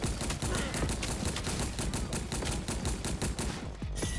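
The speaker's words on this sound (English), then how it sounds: "I am liking this machine gun." Rapid machine-gun bursts rattle nonstop in a zombie survival video game, loud and close with an even staccato rhythm that cuts off just before the end.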